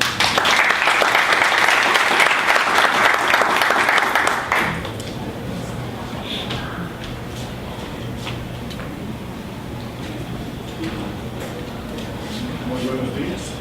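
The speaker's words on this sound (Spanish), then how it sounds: "Recibamos por favor al doctor con un aplauso fuerte" A large audience at an academic event on self-evaluation and excellence applauds loudly to welcome a doctor, dense clapping for about four seconds before it stops abruptly and quiet room murmur with scattered taps and voices follows.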